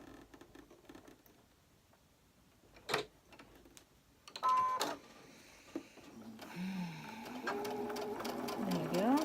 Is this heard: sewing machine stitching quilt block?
yes